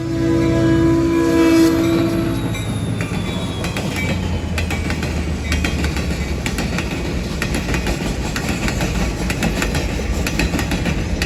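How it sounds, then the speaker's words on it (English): A train horn sounds briefly, then a long U.S. Sugar freight train loaded with sugarcane rumbles past with steady clanking and rhythmic wheel clatter, loud and close. "one of the loaded trains was headed south"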